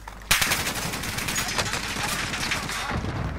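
Loud, rapid automatic gunfire in the Warzone video game starts with a sharp crack and continues as steady overlapping bursts throughout.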